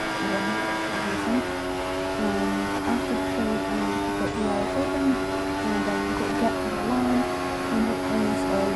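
Engine of an F1 race car in the F1 2014 video game at the Australian GP, a steady loud droning whine with shifting pitch through a corner, continuous and near.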